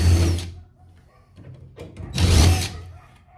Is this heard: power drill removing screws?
yes